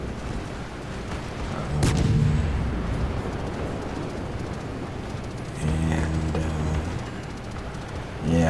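Naval guns fire from a Shimakaze destroyer in a World of Warships match, two loud booming salvos about four seconds apart, each rolling out over steady low engine and sea rumble, with no talking.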